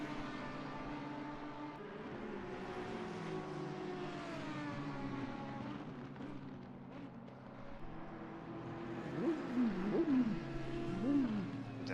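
A video game race car engine drones at Spa-Francorchamps, its pitch sliding up and down as it revs and downshifts, heard from outside the car, with sharper rising whines near the end.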